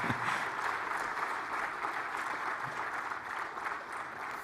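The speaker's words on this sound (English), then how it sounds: "Another round of applause, more energy please." An audience at a mining industry week event in Rwanda gives a sustained round of applause, a thick, even roar of many clapping hands filling the hall without any speech over it.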